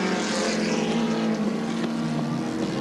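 A 1981 Holden Commodore endurance race car comes down the main straight, its engine making a loud, steady roar with a constant droning tone and wind noise, no voices.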